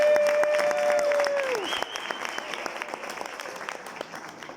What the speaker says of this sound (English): Let's please give out to now another round of applause.